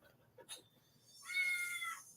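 A domestic cat lets out one drawn-out, fairly loud meow after a brief fainter sound, close by with no talking.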